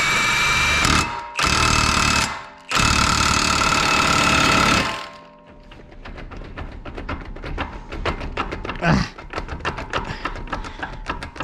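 An impact wrench removes the axle nut from a 2013 Nissan Altima during wheel bearing service, loud rattling bursts in two long runs early on, followed by quieter clanks and tool handling.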